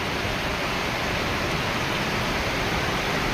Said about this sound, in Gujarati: જબરજસ્ત વરસાદ પડી રહ્યો છે અત્યારે